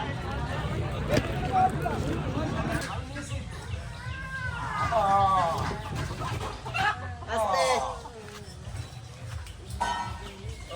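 Chickens clucking around a rural Bengali household where three hens and two ducks are kept, their calls rising in short bursts over steady background babble and talk.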